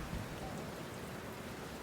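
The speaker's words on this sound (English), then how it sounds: "The heavy downpour creates a consistently monotone soundscape that masks any ambient noise" Heavy rain pouring steadily outside, a dense, unbroken wash of downpour noise filling the whole moment with no other sounds.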